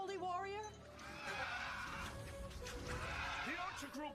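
A horse neighs loudly in a shrill, wavering whinny at the start of an anime battle scene, followed by shouting voices, crashing noise and another short whinny near the end.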